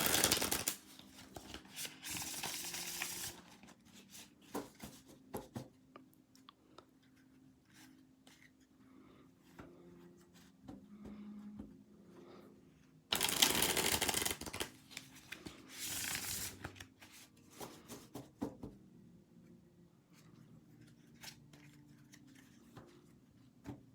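Several bursts of cards being riffle-shuffled, crisp and close, separated by quieter stretches of handling and light tapping.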